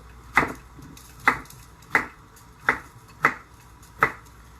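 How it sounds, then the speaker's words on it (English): A knife chops vegetables in six evenly spaced, crisp strikes on a cutting board, close and clear with no talk. "So I'm going to chop off the top. Make my slices again."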